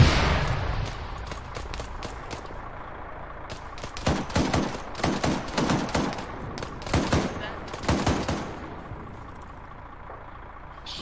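Rapid bursts of automatic gunfire in a military video game jungle operation, sharp cracks in clustered volleys that grow louder and denser midway, with a voice speaking briefly.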